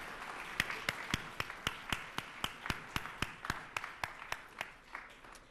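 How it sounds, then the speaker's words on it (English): Evenly spaced claps ring out about three times a second at a conference welcome session, a steady, unhurried rhythm over a faint room hum. "Let's start off by giving ourselves a big round of applause for just being here."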